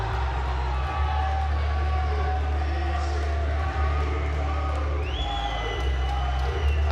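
Loud arena crowd at a BAMMA 17 mixed martial arts event, a steady roar of cheering and whooping that continues without a break as a fighter heads toward the cage.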